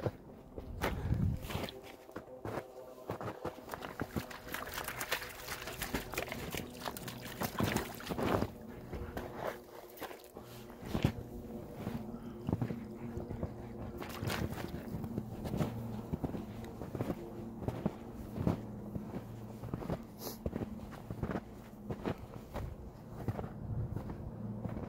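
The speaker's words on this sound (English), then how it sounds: "I'm getting a workout walking through all this deep snow" Footsteps crunching and trudging through deep, sticky snow during a snowstorm hike with dogs, a steady series of close, heavy steps over gusting wind noise.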